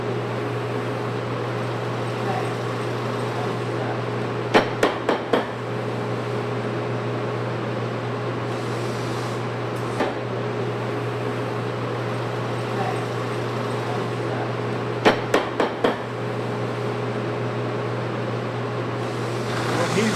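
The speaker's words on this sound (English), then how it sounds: "Actually sewing the boot counter to the boot top. A 3115 model, Singer model sewing machine." A Singer model 3115 sewing machine stitching a leather boot counter to a boot top in a bootmaking shop, with a steady motor drone throughout and a few brief clusters of sharp clicks.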